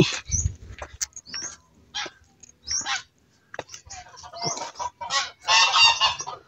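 Goose-like honking from a duck, several loud bursts close by at irregular intervals, with low rumbling handling noise between calls and no talk.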